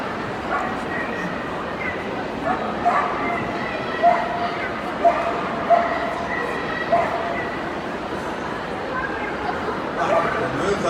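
Dogs in a working trials display team at Crufts giving repeated yips and barks across an arena, moderately distant, over a constant murmur of crowd chatter and talk.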